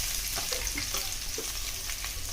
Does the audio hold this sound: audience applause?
no